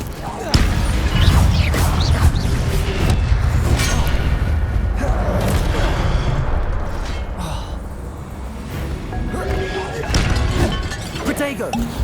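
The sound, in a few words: Incendio fire spell cast in Hogwarts Legacy, video game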